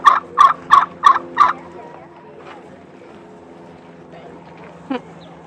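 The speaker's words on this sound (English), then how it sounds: "there's a few other turkeys in here, and one rooster" Turkeys at a farm sanctuary let out five quick, loud gobbles in a steady rhythm, then fall quiet apart from a soft background murmur and one short call near the end.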